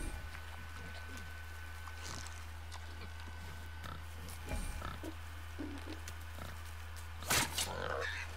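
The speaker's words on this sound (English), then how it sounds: "Wild boar's hide is thick." Wild boar in the God of War video game, low grunts and snorts heard faintly over a constant humming drone, with a few brief thuds and a louder burst near the end.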